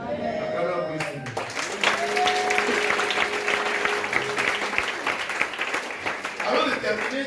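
A church congregation breaks into sustained applause for the Lord, a dense wash of many hands clapping that continues steadily throughout, with voices and cheering mixed in.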